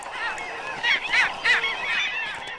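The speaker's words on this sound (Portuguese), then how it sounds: "Talhamares vêm do litoral." Skimmers (talha-mar) calling in a busy flock at natural pools along the Amazon river, harsh nasal yelping calls overlapping in repeated bursts, fairly close and loud over steady background chatter.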